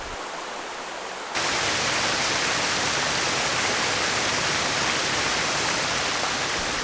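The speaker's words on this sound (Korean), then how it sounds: "절벽 아래로 떨어지며 장관을 이루는 수옥폭포" Suok Waterfall drops from a cliff fed by water from Joryeongsan, a broad, steady roar of falling water that swells suddenly after a quieter opening second and then holds loud and constant.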